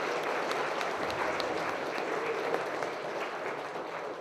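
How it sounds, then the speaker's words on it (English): A conference audience in a hall applauds a speaker, steady dense clapping at moderate distance without pause, fairly soft overall. "let's give a round of applause to our great speaker"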